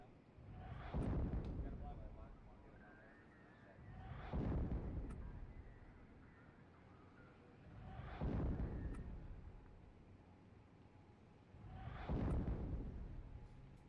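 Artillery bombardment in the WWII strategy game Steel Division 2, Karelia campaign: four deep, rumbling blasts arrive at a steady interval of about four seconds, each swelling loud and then decaying, over low background noise.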